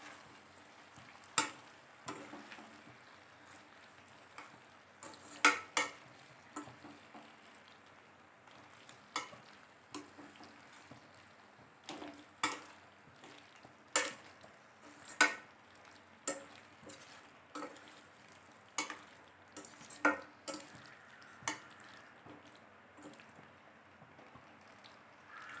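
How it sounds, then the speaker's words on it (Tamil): A spoon stirs aviyal, a mixed vegetable dish with grated coconut, in a pan, making soft, irregular scraping taps about once a second against a quiet background. No one speaks. "இது எல்லாத்தையும் சேர்த்து நம்ம நல்லா கலந்து விட்டுக்கலாம்."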